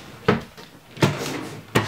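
A wooden dresser drawer in a bedroom wardrobe is handled, giving three sharp wooden knocks and slides about three-quarters of a second apart, close by and distinct against a quiet room.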